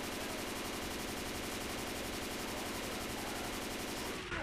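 Continuous rapid automatic gunfire in the co-op zombie shooter Left 4 Dead 2, players unloading on the Tank, loud dense rattling bursts that run unbroken before cutting off at the end.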